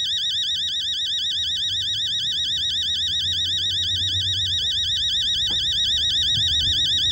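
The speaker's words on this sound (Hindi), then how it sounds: "अच्छा ये टाइमर बज रहा" Timer ringing in the video game Fears to Fathom: Home Alone, a continuous warbling electronic alarm that repeats steadily and loudly throughout, with faint low rumbles and a couple of soft knocks underneath.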